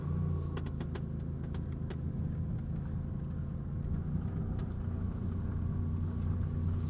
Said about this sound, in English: we also get a front end nose lift, which we will engage